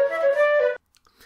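Brief melodic motif from Bach's Badinerie, a couple of clear sustained notes lasting under a second, followed by near silence with faint scattered noise.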